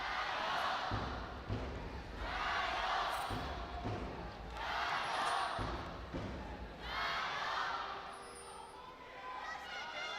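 A large esports arena crowd at a League of Legends Worlds regional qualifier roars in four long surging waves of cheering and chanting, loud and full, with brief lulls between swells.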